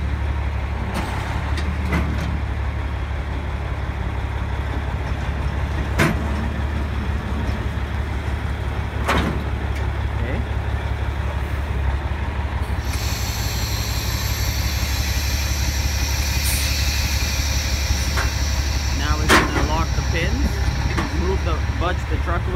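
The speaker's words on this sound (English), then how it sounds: "Now he's gonna drive the truck in reverse." A truck with a 20 ft extendable chassis reverses, its engine a steady low drone throughout with a few sharp hisses and clanks, and a higher whine joining in the second half. Someone talks over it.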